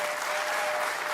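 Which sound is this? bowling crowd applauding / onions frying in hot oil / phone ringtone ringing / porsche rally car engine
bowling crowd applauding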